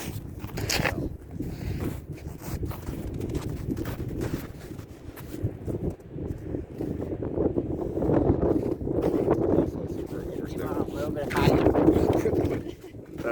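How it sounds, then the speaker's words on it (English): Steady wind buffets the microphone outdoors with a low rumbling roar, gusting stronger at times, while a voice speaks over it. "a little bit windy out here."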